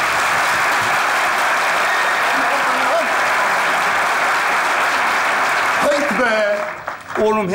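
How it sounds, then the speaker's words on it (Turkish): A studio audience claps loudly and steadily for several seconds, and the applause fades out as voices start to talk. "Şöyle kocaman alkışlarınızla."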